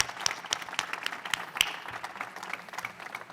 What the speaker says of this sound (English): Please, some applause for our panel.